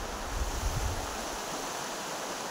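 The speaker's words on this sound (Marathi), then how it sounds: "दिस इज कॉल्ड आमची नदी." A river flows as a faint, even rushing hiss, distant and steady, with no voices.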